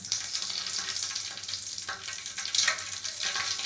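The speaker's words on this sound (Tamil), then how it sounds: "எண்ணெய் காய்ஞ்சதும் கடுகு போட்டுக்கோங்க." Mustard seeds splutter in hot oil in a pan, a close crackling sizzle with irregular sharp pops and bursts over a continuous frying hiss.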